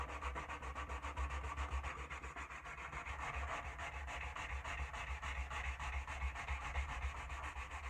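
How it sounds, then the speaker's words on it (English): Steady, continuous scratchy rubbing of sandpaper smoothing a wooden axe handle, close and unbroken for the whole stretch with a low hum underneath and no voices. "piece of your sandpaper, and I'm just going to sand that smooth"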